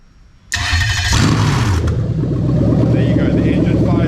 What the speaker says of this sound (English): There you go, the engine fires up